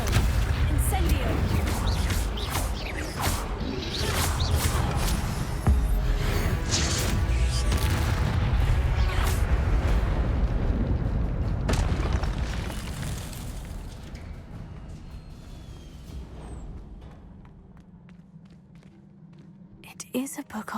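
Incendio spell blasts and combat in Hogwarts Legacy, booming bursts and rumbling impacts over a dense action mix that fades toward the end, with voices audible in the background.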